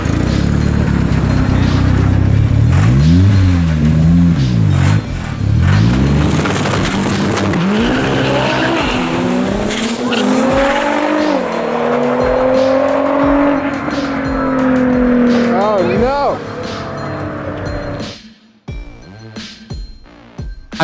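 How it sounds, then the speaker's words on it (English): Street race cars launch hard with engines revving and tires squealing, including a Volkswagen Beetle, loud and close with rising and falling engine tones before the noise cuts out abruptly near the end. "Unfortunately for Dom, shortly after he launched, the OEM diff on the Beetle exploded."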